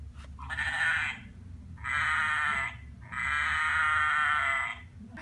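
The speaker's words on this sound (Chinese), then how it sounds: "那现在让我们来听听看绵羊的叫声吧。" Three drawn-out sheep bleats in a row, each lasting about a second, come from a pull-tab farm sound book, loud and close with short gaps between them.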